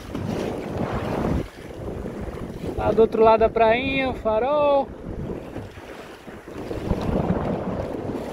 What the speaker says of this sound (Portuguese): tem vento